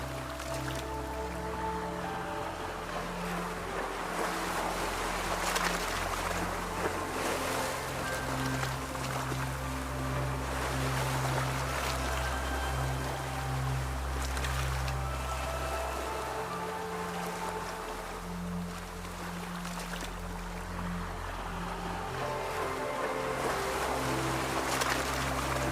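Ocean waves wash around a sailboat at sea under a starlit night, a soft continuous swish with low rumbling swell and gentle lapping, steady and calm throughout.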